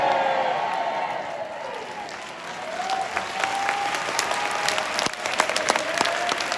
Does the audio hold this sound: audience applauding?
yes